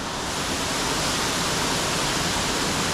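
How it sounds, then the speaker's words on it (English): Little Mashel Falls in Washington, a waterfall roughly 25 to 30 feet high, gives a loud, steady, close-up roar of falling water with no pauses or voices. "I reckon that these falls are around 25 to 30 feet, similar to Cherry Creek Falls."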